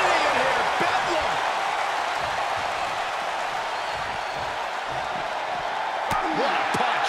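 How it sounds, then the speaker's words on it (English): Dense, roaring arena crowd noise from the WWE 2K22 wrestling video game, loud and steady throughout with a broad wash of cheering, plus a sharp hit near the end. "Look at this crowd. It's insanity in here, Bedlam."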